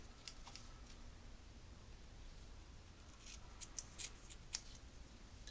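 Scissors cut a small rubber balloon roughly in half, producing faint, quiet snips and light crisp clicks in a near-silent room, with a few sharper cuts toward the end.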